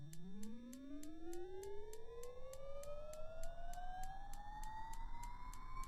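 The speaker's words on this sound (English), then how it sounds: "That's the left engine." Left engine of a Beechcraft B1900D turboprop spooling up at start in the X-Plane 11 flight simulator: a steadily rising whine climbing in pitch over several seconds, with a rapid clicking ignition pulse and a broad rushing roar underneath, loud and continuous.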